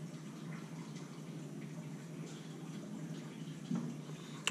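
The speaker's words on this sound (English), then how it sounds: "Ignore that water noise you're hearing in the background, it's my sump pump." A basement sump pump runs with a low steady hum and a soft trickling, gurgling water noise in the background, faint and continuous, with a small knock near the end.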